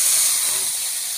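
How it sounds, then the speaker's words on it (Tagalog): Laman lupa, creatures turned up when plowing, sautéed in hot cooking oil for an Ilocano exotic dish, giving a loud, steady, close hiss and sizzle that barely varies for the whole moment. "Igigisa lang natin."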